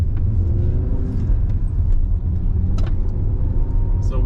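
A VW Caravelle T3 van with a 2.6 engine driving on the road toward a township, steady loud low engine and road rumble from inside the cabin, with faint clicks and rattles.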